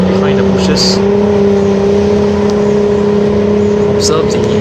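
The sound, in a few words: military tank rolling past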